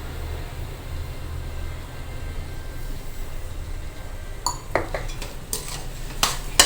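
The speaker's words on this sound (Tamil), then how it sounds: "இப்போ நல்லா கலரி விடணும், கட்டி தட்டாமல் நல்லா கலரணும்" A spoon stirs a kurukku kalan mixture in a pot after sugar is added, a low steady scraping murmur with a few sharp metallic clinks of utensil against the vessel toward the end.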